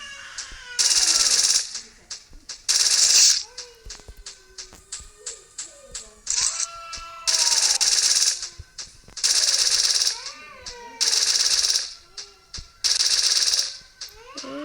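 Gunfire in a Free Fire-style mobile shooting game comes in repeated loud bursts of rapid shots, separated by short pauses filled with clicks, chirpy effects and other game sounds.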